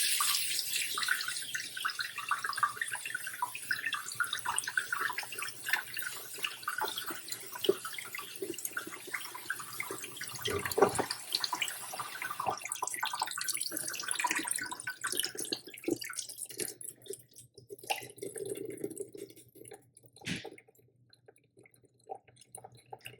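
Rice rinsed in a strainer under running tap water before going into a rice cooker for arroz con salchicha; a steady close splash and stream fills most of the stretch, then it thins to drips and draining near the end.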